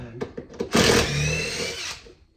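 A power tool backs out fixings from the plywood back edge of a worktop, with a few short bursts followed by one sustained whirring run of about a second, close and fairly loud, then winding down.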